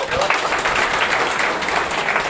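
Applause from an audience at a coaching-class prize distribution for top students, a dense steady patter of clapping filling the whole moment, with a voice faintly mixed in.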